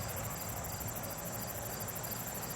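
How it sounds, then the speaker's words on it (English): Little crickets chirp on a night during a lightning storm in Mitchell, South Dakota, a fast high pulsing trill running continuously and fairly faint. "They're little crickets or something"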